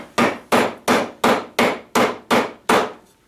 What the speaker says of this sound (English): we could probably hammer on it some more and really get it wedged in there